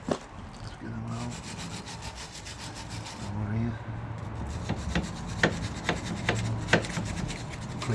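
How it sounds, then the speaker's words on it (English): The back of VW Golf TDI rear brake pads is scraped clean by hand in repeated short, rhythmic rasping strokes, close and moderately loud, with a few sharper scrapes. "Clean back of brake pads off so I can grease them up."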